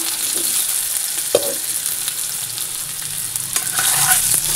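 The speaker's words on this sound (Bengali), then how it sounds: "আলুটা আগে একটু ভেজে নেব" Potatoes frying in a pan of oil sizzle steadily and close, broken by spatula stirs and scrapes, with a louder burst of crackling near the end.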